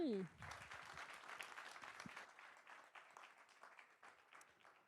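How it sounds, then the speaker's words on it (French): Audience at a sports event kick-off applauding a speaker, a faint, steady spread of many hands clapping that follows a short bit of talk at the start and slowly thins out toward the end. "On peut applaudir Stéphanie."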